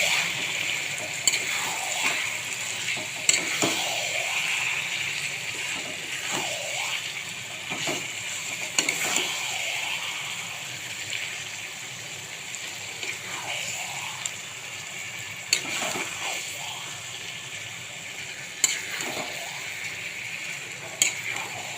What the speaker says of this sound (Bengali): চিকেনটাকে এখন কষিয়ে নিই ভালো করে পেঁয়াজের সাথে